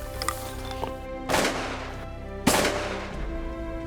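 Two loud shotgun blasts a second apart during a waterfowl hunt outdoors, each with a sharp crack and short rolling tail, no talking.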